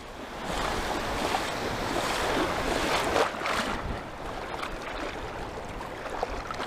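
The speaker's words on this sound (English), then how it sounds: "windy as heck again" Strong wind buffets the microphone in a continuous rushing roar on a fishing dock, with waves and water noise mixed underneath and a gust peaking midway.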